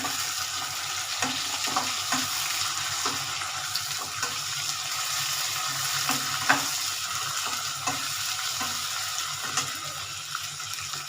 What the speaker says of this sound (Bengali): কাঁচা মরিচ বাটা দিয়ে দিলাম। একটু ভেজে নিই।